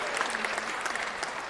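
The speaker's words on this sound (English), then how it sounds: "please help me give these ladies a round of applause for their work" Applause for a group of young women at a city council meeting, a dense, steady patter of many hands clapping throughout the short stretch, moderately loud with no voices standing out.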